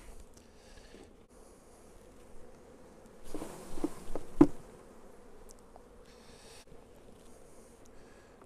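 Honeybees buzz around an open beehive while a beekeeper splits colonies for swarm control, a low steady drone that swells for a moment with a few close bees and a sharp knock before settling back.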